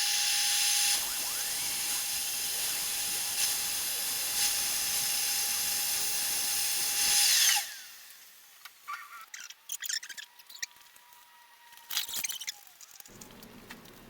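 A drill motor spins a hard-backed sanding pad against a wood-turned piece, running as a loud steady whine for about seven seconds before stopping, then lighter scuffing and handling noises follow.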